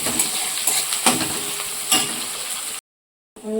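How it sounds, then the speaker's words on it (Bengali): Onions frying lightly in a pan for a Bengali egg curry, a steady close sizzle with a few stirring scrapes, cutting to silence briefly near the end before resuming. "পেঁয়াজটাকে আমি হালকা করে ভেজে নেব, খুব বেশি ভাজার দরকার নেই"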